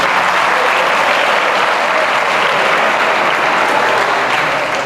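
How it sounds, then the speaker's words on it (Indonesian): Loud, sustained applause from an audience at a Scout organization's accountability meeting, a thick, even roar of clapping filling the whole stretch without a pause. "Tepuk tangan untuk Kak Narendra dan PMT-nya."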